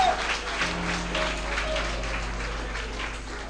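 A church congregation applauds, steady dense clapping filling the room at close range, with some voices mixed in beneath.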